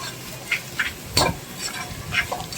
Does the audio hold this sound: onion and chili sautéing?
yes